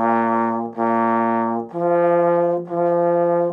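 A trombone plays four sustained notes of Twinkle, Twinkle, Little Star, each held clearly with a warm brassy tone and brief gaps between, the last notes lower, played solo and close.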